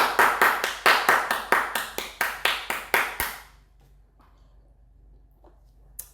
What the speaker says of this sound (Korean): 박수를 저 혼자밖에 안 치겠지만 그래도 저 혼자 쳐보겠습니다.